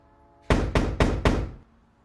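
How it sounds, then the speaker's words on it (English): Four sharp, evenly spaced knocks on a door sound close and loud in quick succession, with quiet before and after and no one speaking. "Somebody's knocking at your door."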